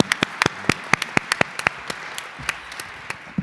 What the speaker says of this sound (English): can we just pause for a second and applaud Joseph and the entire Ohio State Bar